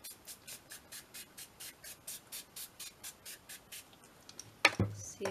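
A spray bottle hisses in a quick, even series of short bursts, about fifteen sprays in a row, close and fairly quiet, followed by a clunk.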